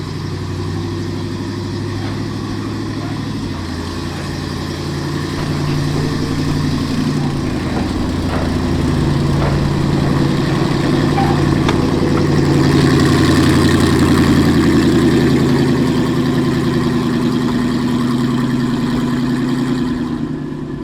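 Shay steam locomotive No. 26, the Green Hornet, sits idling with a steady low rumbling drone and throbbing hum, loud and close, swelling slightly midway and holding constant with no talk.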